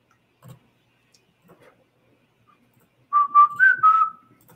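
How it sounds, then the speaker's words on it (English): A man whistles a short bit of the Sanford and Son theme tune, a quick run of clear bouncing notes near the end, preceded by faint ticks and soft clicks in an otherwise quiet room. "Pretty sure I just whistled the Sanford and Son theme."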